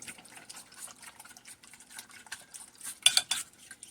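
Eggs and milk are whisked together in a bowl into an egg wash, making quick, close, rhythmic clinks and light splashy taps that grow louder near the end.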